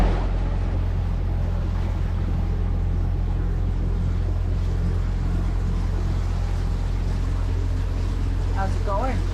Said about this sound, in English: It is quiet out here. Other than that pesky engine.